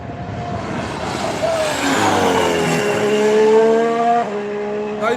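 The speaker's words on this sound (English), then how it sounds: "Mercedes are so loud on power." A Mercedes Formula 1 car at full power, its high engine note rising steadily through the gears and howling loud as it nears, then dropping in pitch as it passes, with no voices.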